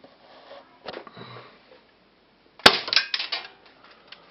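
A single sharp crack from an airsoft replica gun fired after pumping and cocking, preceded by faint mechanical clicks of the mechanism, close and otherwise quiet.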